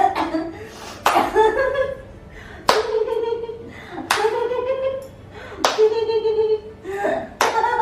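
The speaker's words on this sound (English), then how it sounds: "Okay, now with claps." Hands clap sharply during a laughter yoga session, about six loud claps at irregular intervals, each followed by bursts of group laughter.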